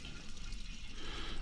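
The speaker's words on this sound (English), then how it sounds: "I will go and pour some fuel in there now" Petrol pours steadily into the fuel tank of a Seadoo GS jetski, a continuous close gurgling and trickling flow with no break.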